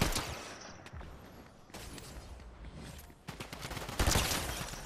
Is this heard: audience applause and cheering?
no